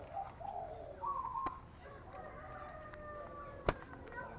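A decoy bird calls repeatedly in clear, tonal phrases over a steady outdoor background, with one sharp click partway through.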